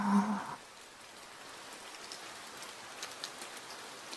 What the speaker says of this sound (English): The din of rain reverberated throughout.